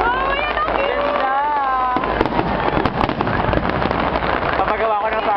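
Fireworks bursting at a pyromusical display in a crowd setting, a dense stream of crackling pops and booms under music and excited crowd voices, with people talking throughout.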